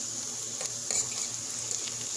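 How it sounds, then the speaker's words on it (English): Overripe plantains fry in a pan for a Jamaican-style breakfast, a steady bright sizzle with small crackles and pops popping up throughout, close and uninterrupted. "I'm taking y'all on my cooking journey, frying my breakfast."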